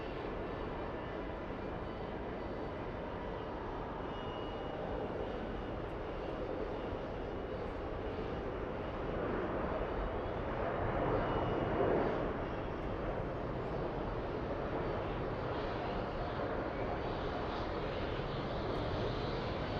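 Delta Boeing 767-300 airliner at an airport, just in from Geneva, its engines giving a steady broad roar that swells slightly near the middle, heard alone without talk.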